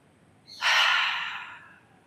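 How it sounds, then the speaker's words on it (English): A single forceful exhale blown out through the mouth during a slow yoga flow, a close breathy rush that swells quickly, holds for about a second and tapers away, alone in a quiet room. "And a forceful exhale."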